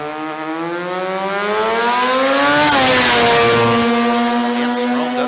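Sports compact drag racing car accelerating hard through its gears at a Brisbane meet, a loud rising engine wail with a quick dip at each gear change before climbing again, close and continuous.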